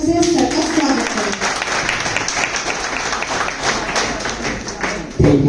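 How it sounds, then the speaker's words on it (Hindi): A school audience breaks into loud, continuous applause to welcome a commerce teacher at a chairman's birthday event, many hands clapping densely, with a voice briefly heard at the start and end. "तो आइए जोरदार तालियों से सर का स्वागत करें।"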